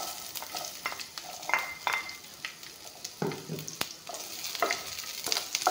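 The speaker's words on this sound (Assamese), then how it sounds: "পিঁয়াজ জলকীয়াখিনি অলপমান ভাজি ল'ম।" Onions and green chillies frying in hot refined oil, a close sizzle broken by repeated sharp scrapes and clinks of a spatula stirring the pan, with no voices.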